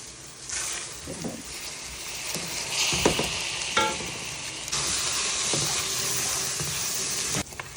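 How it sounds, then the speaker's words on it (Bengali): Hot oil sizzles and crackles as biryani rice is poured into a pot, with scattered rustling bursts and a steady hiss underneath. "এখন আমি এই যে বিরিয়ানির চালটা ঢেলে দিতেছি"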